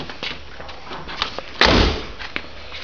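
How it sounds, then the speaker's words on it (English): A single solid slam of the driver's door of the Back to the Future movie car, a heavy thud after some faint clicks and handling noises, close by. "let me close this driver's door"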